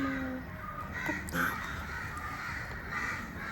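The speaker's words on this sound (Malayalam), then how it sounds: "അപ്പം നമ്മൾ പുറത്ത് കാക്കയൊക്കെ കാണാൻ വന്നതാണ്." Crows cawing outdoors at a distance, a few faint harsh calls over steady background ambience.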